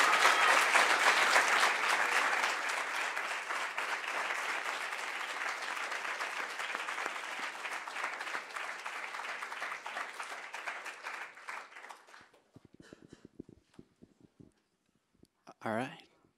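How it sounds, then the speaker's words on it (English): Audience applause after presentations at a 2019 policy pitch competition: loud, dense clapping for about twelve seconds, then tapering off into scattered claps and a brief voice near the end. "can we give them one more round of applause?"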